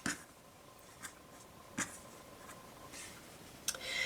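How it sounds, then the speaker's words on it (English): Scissors snip through quilting fabric, cutting it in half with a few faint, separate crisp clicks spread across a quiet background. "I'm just going to grab this and cut this right in half."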